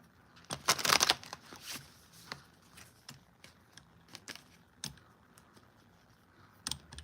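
Tarot cards being shuffled in quick, crisp bursts of riffling and clicking, loudest near the start and then scattered in short taps and flicks, heard close and with no talking.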